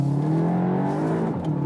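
A VW Arteon R Shooting Brake accelerates hard in first gear out of a hairpin, its engine note loud and close, with a steady rising drone and harmonics climbing over a second and a half.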